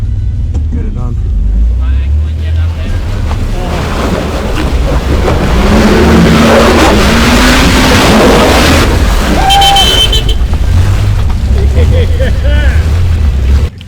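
A big 4WD vehicle on a rocky mountain track revs its engine hard in a loud continuous roar while a wheel spins on the rocks, close by, with a voice briefly speaking partway through.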